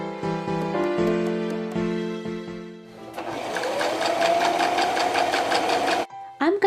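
Sewing machine running a straight stitch along a folded fabric hem on a small doll's hooded cape, a steady close mechanical whir with rapid stitching pulses that speeds up midway, then stops and briefly restarts.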